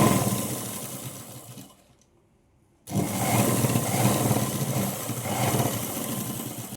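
Electric sewing machine stitching a plain blouse, a steady close mechanical whir that stops for about a second, then resumes at the same even pace.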